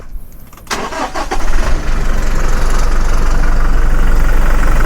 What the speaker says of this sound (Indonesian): Tak kasih dengar suara mesinnya dari Innova Reborn ini.